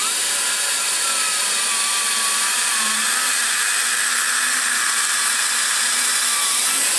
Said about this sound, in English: Let's start leveling on it with just the belly part of the burr.